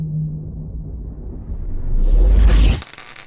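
Designed electricity sound effect: a low rumbling crackle that swells in a reversed whoosh, building to a loud bright peak near the end before cutting off abruptly.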